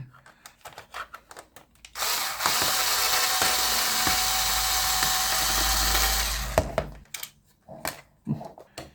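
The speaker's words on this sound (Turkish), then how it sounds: "İkinci vidayı çıkardık." Screwdriver working a screw out of an Arzum hair dryer casing, a steady close grinding, ratcheting rasp lasting about five seconds, framed by brief clicks and handling taps before and after.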